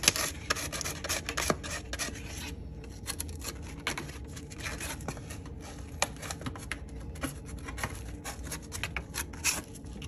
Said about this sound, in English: All I gotta do is just like lightly